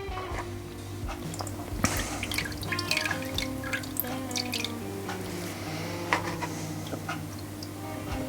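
Foie gras, soaked overnight, drains in a kitchen with soft scattered drips of liquid, close and faint, over a steady low background hum with no talking.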